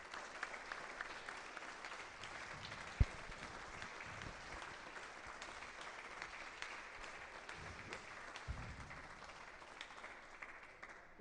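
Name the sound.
audience applause for club patrons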